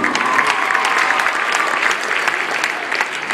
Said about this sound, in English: Let's hear it for Jonathan Sloan.